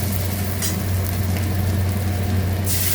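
Ginger paste and chopped green chili frying in a pan for a duck egg dish, a dense continuous sizzle with a low hum beneath and a few stirring scrapes.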